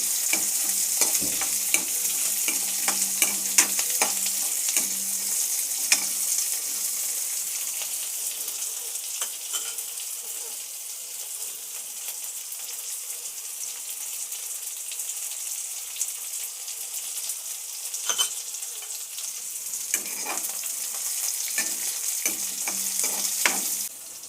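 Green chillies and onions sautéing in a pan for bottle gourd kofta gravy, a soft continuous sizzle broken by repeated spoon scrapes and stirs, no talking.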